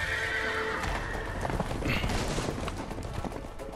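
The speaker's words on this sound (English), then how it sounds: "the horses are escaping" In the video game A Way Out, horses whinny loudly while hooves clatter in a fast gallop, with crackling bursts mixed in; close and busy, with no talking.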